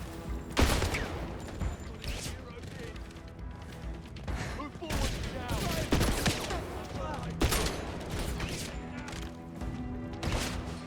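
Gunfire in a James Bond 007 video game crackles in repeated sharp bursts and volleys amid busy action sounds, with voices talking underneath.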